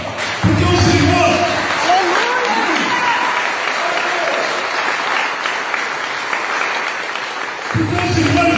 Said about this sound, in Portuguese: Aplauda o Senhor, irmãos.